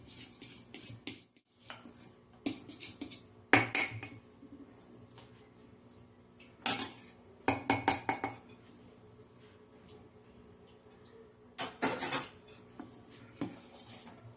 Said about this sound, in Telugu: ఒకేసారి వేసుకోవద్దండి వాటరు, కొద్దిగా వేసుకొని కలుపుకుందాం.